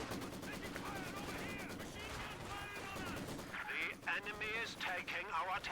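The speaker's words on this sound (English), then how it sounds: "this has been a constant exchange of machine gun fire. The sound of Maxim's Dakka-Dakkering" Maxim machine gun fire in a Company of Heroes 2 1v1 match, a continuous rattling exchange of bursts with artillery-like thuds, heard under a voice talking throughout.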